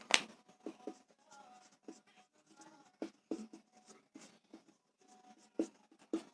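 Marker or chalk writing on a board during a chemistry lesson: scratchy, intermittent strokes and taps close by, with faint soft talk in the background.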